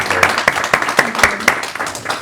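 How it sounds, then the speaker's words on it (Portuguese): Audience applause welcoming a guest at a Portuguese talk on peer education, close and fairly loud, with distinct sharp claps in a loose rhythm over a softer clapping bed. "eu pedi uma salva de palmas para acolhermos"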